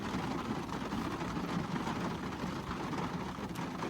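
Steady, dense rain hiss fills the whole stretch, a constant wash of patter with no voices and no clear breaks.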